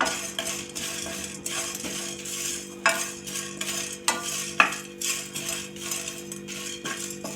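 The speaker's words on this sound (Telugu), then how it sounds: "రెండు రెబ్బలు కరివేపాకు కూడా వేయించుకుందామండి ఇందులోనే." Curry leaves fry in hot oil in a pan while cashews and paneer masala cook, a steady soft sizzle with occasional clinks and stirring taps of a utensil against the pan, close and without speech.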